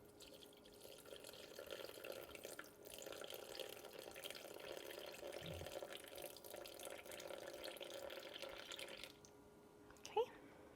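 Water pours steadily into a bowl on a zeroed kitchen scale for sourdough bread dough, a quiet continuous trickle that stops near the end, followed by a brief clink.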